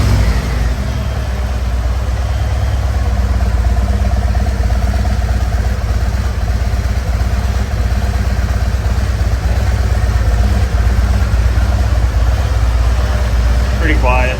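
A 2025 Harley-Davidson Road Glide motorcycle engine idles steadily and fairly quietly, a continuous low throbbing rumble that holds for the whole stretch with slight variations, close by.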